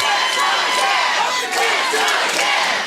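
A pro wrestling crowd at an indoor event cheers and roars loudly and continuously, a dense wall of many voices with shouts rising above it.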